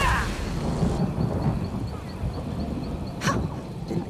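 Thunder rolls through a storm in the fantasy game Elder Scrolls Online, a deep rumbling wash with a few sharper cracks standing out over steady low noise.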